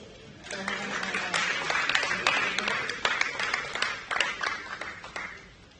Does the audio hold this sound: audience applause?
yes